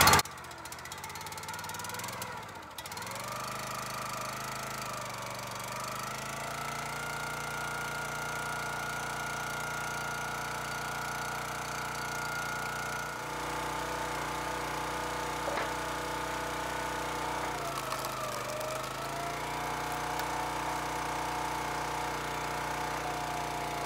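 Gas engine on a log splitter pull-starts with a brief sputter, then runs steadily with a continuous droning hum that holds even for the rest of the stretch, moderately loud and nearby.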